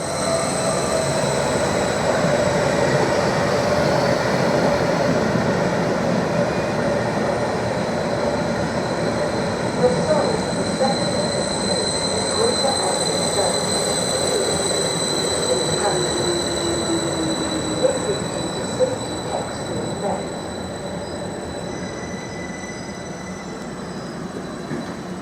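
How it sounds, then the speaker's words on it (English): Electric train 745005 arrives at a platform in Ipswich station with a steady rolling rumble, a faint wheel squeal and an electric whine, fading slightly toward the end as it slows. "we've got the 1800 service to Norwich, now arriving to platform 3"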